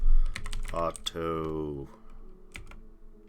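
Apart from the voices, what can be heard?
typing on a computer keyboard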